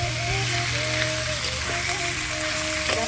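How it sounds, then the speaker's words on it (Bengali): Water poured onto potato, pointed gourd and spices frying in a pan for a fish curry sets off a loud, continuous crackling sizzle that carries evenly throughout. "আমি এবার জল দিয়ে দিলাম।"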